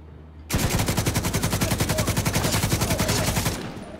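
Sustained automatic gunfire from a gun in the video game The Division II, a rapid steady burst of shots lasting about three seconds, loud and close, with no talking over it.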